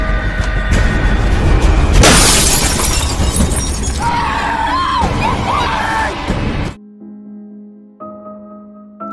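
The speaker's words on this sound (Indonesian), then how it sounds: "tiba-tiba psikopat itu langsung menerobos kaca mobil." Car window glass smashes loudly in a film scene, a sudden bright shattering burst amid shouting and tense music, followed by scattered debris and quieter tones.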